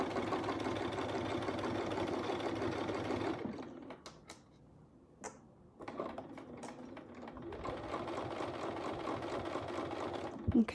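A sewing machine stitching curved quilting lines runs in a steady, fast mechanical whir, stops for a couple of seconds with small clicks, then starts up again and runs on.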